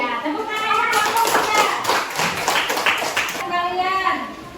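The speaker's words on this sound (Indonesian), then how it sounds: "tepuk tangan untuk kelompok" Classroom applause from children clapping for a student group, a dense burst of rapid hand claps lasting several seconds before tapering off, with a young voice heard briefly at the end.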